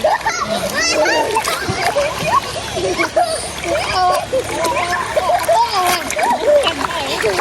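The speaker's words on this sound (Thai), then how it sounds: "เด็กน้อยลงมาอาบน้ำไปเลยค่ะอาบน้ำ" Water splashes and sloshes continuously as a small child bathes, with a voice and other talk running over the lively splashing throughout.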